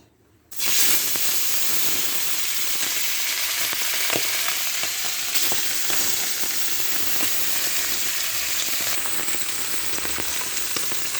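Fish hits a well-heated pan for a fish and potato curry and sizzles loudly, a continuous close hiss and crackle of frying oil that holds steady throughout.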